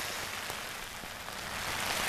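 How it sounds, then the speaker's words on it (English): Rain falls outdoors in a steady, dense hiss of drops spattering on surfaces, close and continuous with no other sounds. "Oh, I'm out in the rain and it's getting wet"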